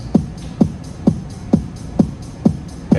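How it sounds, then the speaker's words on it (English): A programmed electronic drum beat with the hi-hat filled in every second step, heard as a steady loop of punchy low hits about twice a second with faint crisp ticks above, alone without talk. "so I'm going to fill the hi-hat up."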